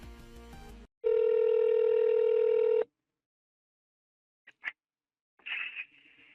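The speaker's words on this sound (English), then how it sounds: "Here's the last phone call where I tried to talk to him and he did not respond" An outgoing phone call: a short burst of dial tones, then a long steady ringback tone, followed by silence, a couple of faint clicks and a brief tone at the end.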